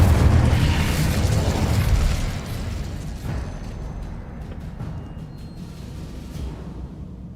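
A fiery Incendio spell blast in the PC game Hogwarts Legacy erupts in a loud, roaring burst, then rumbles and crackles as it slowly fades over several seconds, with no one talking.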